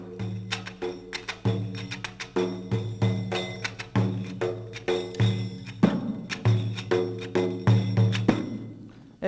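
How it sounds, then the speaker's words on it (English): A big zili def, a Turkish folk tambourine fitted with cymbals, is beaten in a steady, driving rhythm. Thumps on the skin mix with shimmering metallic jingles, loud and close, and carry on for several seconds with no talking. "tambourine with cymbals, called the big zili def."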